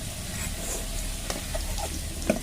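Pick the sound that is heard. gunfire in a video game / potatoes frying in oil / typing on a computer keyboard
potatoes frying in oil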